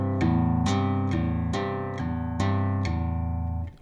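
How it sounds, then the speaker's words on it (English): An acoustic guitar chord rings out repeatedly in an even rhythm, each note played with a pull-off, starting with a bright pluck and sustaining clearly with no voices. "I'm going to strike the strings, and then I'm going to pull down and basically release"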